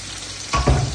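Pork belly stir-fries in a little oil, a steady sizzle broken by two quick clunks of the utensil stirring against the pan, close and fairly loud.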